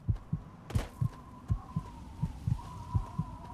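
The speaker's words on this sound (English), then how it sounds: "And this heart beating thing, wow." A steady heartbeat in the Fallout 3 video game thumps in regular low double pulses, about one per half second, over a faint droning hum and distant ambience.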